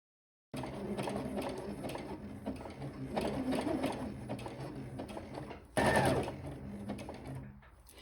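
A sewing machine runs in steady bursts, stitching bias binding onto camisole fabric, close and continuous for several seconds, with a brief louder surge near the end.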